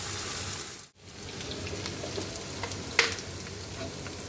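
Onion and garlic fry in hot oil for a tempering for kalai dal, giving a steady, close sizzle with a short dip near the start and a sharp clink partway through.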